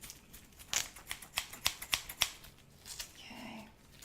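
Scissors cut a bandage up close in a quiet room, a series of crisp snips growing more regular, followed by soft rustling of the material.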